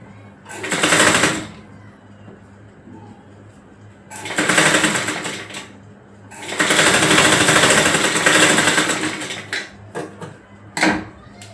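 A sewing machine stitches tucks on a small girl's frock in three loud bursts of rapid mechanical chatter, separated by brief pauses, close by.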